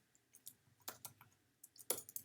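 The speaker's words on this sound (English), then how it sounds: "Now let's go ahead and type in Stitch again." Sparse keyboard typing on a computer keyboard, a few scattered clicks and short bursts of keystrokes at close range in a quiet room, with no speech.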